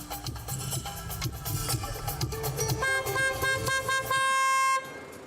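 Car horns honking repeatedly in loud, overlapping blasts, a sustained tooting that ends in one long continuous horn note, with music-like tones underneath.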